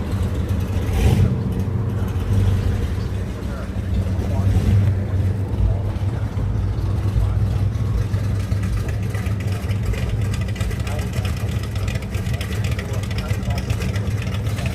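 A car engine revs on a historic street in St. Augustine, a steady mean rumble with surging revs, heard up close over broad street and wind noise, with a voice speaking now and then.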